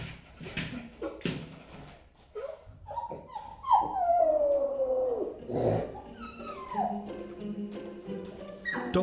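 A dog left home alone with another dog whimpers and lets out rising, wavering howls, interspersed with soft whines and scratchy movement noises, fairly close and with no talking.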